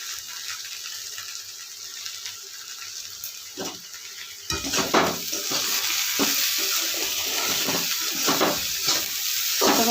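Okra and green chilies stir-frying in a pan with homemade spice masala: a soft hiss at first, then from midway a louder, steady sizzle with scattered scraping and clattering stirs close by.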